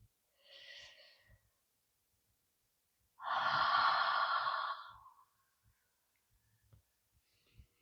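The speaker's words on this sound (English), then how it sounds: "Take a deep breath." A slow, deep breath drawn in and let out near the microphone, a softer inhale first followed by a longer, louder exhale lasting about two seconds, with quiet stillness around it.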